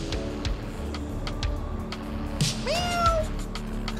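A cat meows once clearly and close, a rising then falling drawn-out call, heard over game background noise with faint clicks and a low rumble, with no talking.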